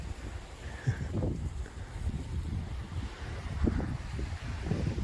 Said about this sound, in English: We're mostly hiding from the wind because it's pretty intense.